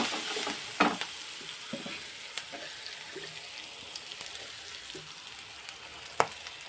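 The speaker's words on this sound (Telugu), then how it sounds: "ఒకసారి కలపండి." Cowpeas being stirred in a pan with ginger-garlic paste, curry leaves and turmeric, giving soft scraping clicks over a steady low sizzle; no talking.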